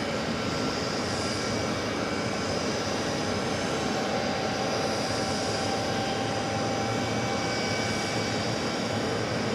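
An Airbus A220-300 airliner at JFK airport, a loud continuous jet engine roar with broadband rushing noise holding steady throughout, no voices.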